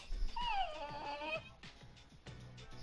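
In the video game Persona 3 Portable, a dog whimpers in a series of high, wavering whines, close and clear, followed by short yips and small sounds with no speech over them.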